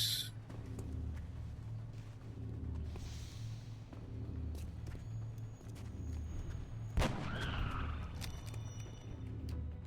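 A single sharp gunshot cracks out midway through a turn-based squad battle in XCOM Long War at a trainyard, standing out over a low steady game hum and music bed.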